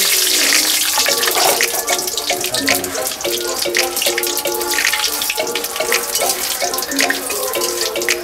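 Mustard oil in a pan crackles and sizzles with five-spice seeds, dried red chili and bay leaf for a bottle gourd curry, a steady, close, busy frying hiss with scattered pops and no talking.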